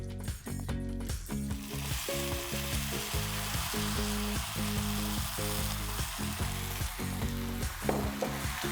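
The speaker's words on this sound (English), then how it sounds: "At this stage, we need to lower the flame and add in the pre-cooked rice." Cashews and raisins sizzle in hot fat as pre-cooked rice for sweet zarda pulao goes in, a steady close frying hiss under a loud tonal hum with occasional stirring clatter, no talking.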